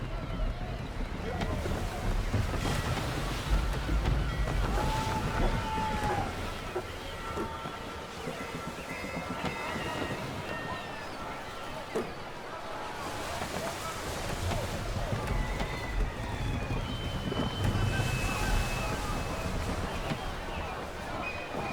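A sailing ship at half sail on open sea in the video game Assassin's Creed III, with steady rushing wind and water washing against the hull, creaking rigging, and faint shouted voices over the ambience.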